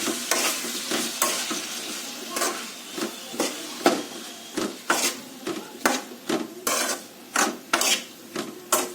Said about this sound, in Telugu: సో ఇవి వేసుకున్న తర్వాత మళ్ళీ ఒకసారి మొత్తం కలిసేలాగా కలుపుకోవాలి.